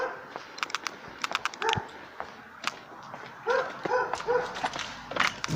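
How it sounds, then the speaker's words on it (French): A Dalmatian barks in a garden, a few short sharp barks near the start and a cluster of barks later, mixed with scattered clicks and rustling. "Elle continue d'aboyer."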